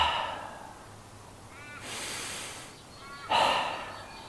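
Two deep breaths close out a yoga session, each a slow, soft, breathy inhale and exhale, heard close and quiet.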